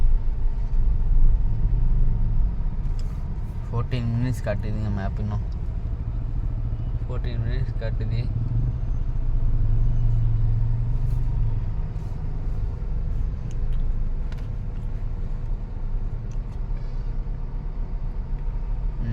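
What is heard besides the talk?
heavy road traffic, cars and engines on Hosur road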